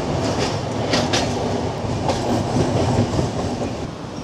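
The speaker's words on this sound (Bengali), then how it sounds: "ট্রেন লিলুয়া ক্রস করে গেছে, হাওড়ায় ঢুকছে ট্রেন" Kulik Express train coaches rumble steadily on the approach into Howrah, close and loud, with a broad continuous roar of wheels on rail and a few sharper rhythmic clacks scattered through it.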